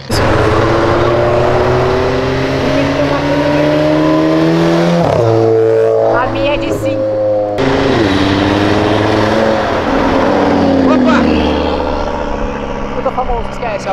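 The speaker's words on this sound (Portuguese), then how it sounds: "É porque tem muito carro saindo em sequência, olha lá." Several cars pull away one after another, engines revving and accelerating in overlapping waves with rising and falling pitch, loud and close, with a brief lull midway and people talking over the traffic.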